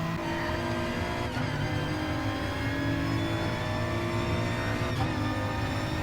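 A GT4 race car in a sim racing game holds a steady engine drone as it tucks into another car's slipstream, loud and continuous with faint tyre noise, no talking.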